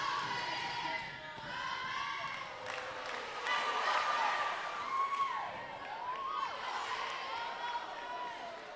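Crowd noise fills a school gym during a timeout in a deciding fifth set of a high school girls' volleyball match, a steady murmur with cheering swells and shouts, while an announcer talks over it.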